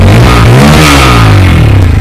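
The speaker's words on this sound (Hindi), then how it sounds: "ये बाइक स्टार्ट हो गई साउंड आपको सुना देते हैं" Loud, close Bajaj Pulsar NS160 motorcycle engine with underbelly exhaust revving up, its throaty roar rising steadily to a sustained high pitch.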